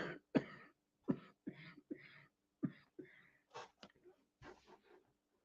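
Someone coughs in a burst of repeated harsh, throaty hacks and throat clearing, close and fairly quiet, spaced irregularly over a few seconds with no speech.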